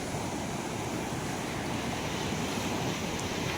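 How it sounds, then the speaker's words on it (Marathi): Sea waves wash onto the shore at high tide in a steady, continuous surf roar, with wind buffeting the microphone and no voices. "पाण्याला मस्त भरती लागले."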